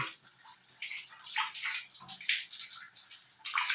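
Water pouring from the opened valve of a Panasonic water heater under repair, an irregular, splashy gush that surges and dips in uneven bursts, close by.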